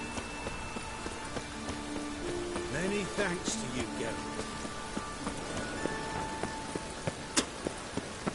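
Steady rain hisses and patters across the soundscape of The Witcher 3 video game, a dense continuous wash with a few brief knocks, while a voice speaks briefly over it.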